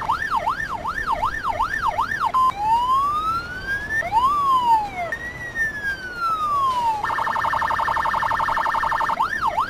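Police car siren from an Emergency 4 game vehicle on the São Paulo mod, cycling through wailing sweeps, then a slower rising and falling wail and a fast yelp, loud and continuous with no talk.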